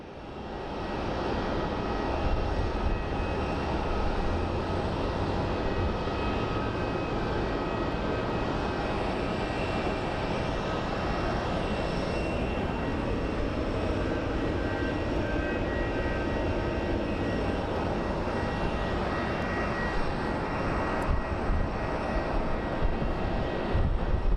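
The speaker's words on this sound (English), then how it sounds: "We have a 737 that is slowly taxiing over." Boeing 737 slowly taxiing at Phoenix Sky Harbor airport, a loud sustained jet engine drone and whine holding steady throughout, heard from nearby with no talking.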